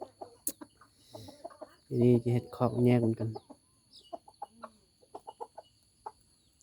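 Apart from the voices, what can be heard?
chickens clucking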